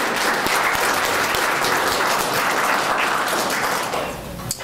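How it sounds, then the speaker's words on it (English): Loud, continuous applause from a community forum crowd welcoming Wayne Bradley, holding steady before thinning out near the end. "So let's give him a round of applause."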